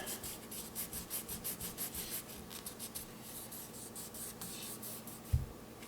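Steel wool scrubs surface rust on a 17HMR rifle in quick, soft back-and-forth strokes, a faint rhythmic scratching close by with one brief louder knock near the end.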